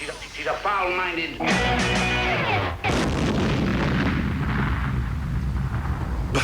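Loud bomb-like blasts with a thick, sustained rumble that fills the clip, following a brief voice at the very start.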